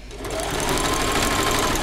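A sewing machine stitches cloud appliqué for a cosplay piece, a steady, fast, close mechanical whirring hum that runs without a break.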